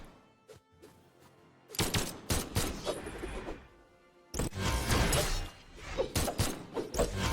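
Gunfire from guns picked up mid-match in a platform fighting game, Lord Vraxx and Barraza against Hattori: dense clattering bursts and crashes in two long loud volleys with a quieter stretch between, no talk.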